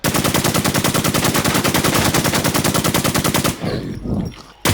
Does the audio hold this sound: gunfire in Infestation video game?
yes